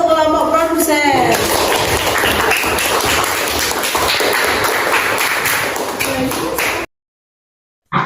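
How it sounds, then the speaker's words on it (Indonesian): Classroom applause from students for a group's food-web presentation, a dense burst of clapping lasting several seconds before cutting to silence, with a voice at the start. "Kita beri tepuk tangan untuk kelompok produsen"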